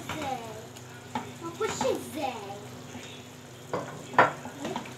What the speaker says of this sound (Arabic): كده نقلبها كده 3 دقايق بس بالظبط علشان الجمبري ايه ما بياخدش سوا كتير